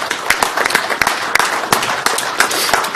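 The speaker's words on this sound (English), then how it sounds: "if you'd all just join me in a quick round of applause for them" Applause for nursing home staff at a county board of supervisors meeting: a room of people clapping in a brisk, uneven patter of sharp claps, loud and close.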